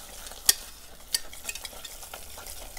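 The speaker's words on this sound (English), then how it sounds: "make sure you want to keep whisking this because the pan's still hot" A whisk scrapes and clinks against a hot pan while tiramisu cream custard is stirred, with a few sharp metallic taps among soft, steady swishing, close by and with no talking.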